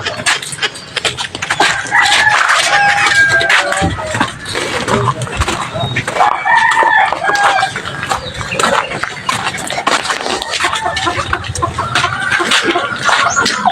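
Chickens cluck and squawk close by amid a busy farmyard during a fire, with people shouting over them throughout.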